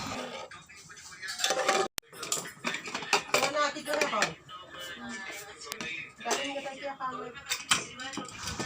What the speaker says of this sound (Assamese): এতিয়া মই কুকাৰৰ ঢাকনিখন লগাই ল'ম।